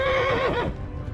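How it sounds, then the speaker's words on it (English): A horse in the medieval game Kingdom Come: Deliverance lets out a loud, close whinny lasting about a second, its pitch wavering and falling away at the end, with hooves and ambient game sound carrying on underneath. "Oh, you freaking horse."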